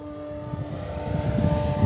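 An E-flite Carbon-Z T-28 RC airplane with a 2.0 m wingspan flies at full throttle, its steady droning motor and propeller whine holding clear and fairly loud throughout, with no talking.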